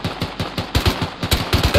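Rapid automatic gunfire from the survival game Rust rattles in quick, evenly spaced bursts, loud and close, with no talking over it.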